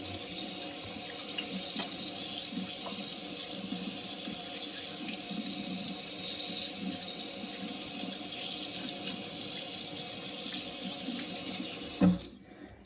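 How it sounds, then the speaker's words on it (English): Water runs steadily from a sink tap as hands are washed, a constant close hiss of flowing water that ends with a brief clunk as it stops. "then we're going to turn on the water and rub it really hard again to get all that off"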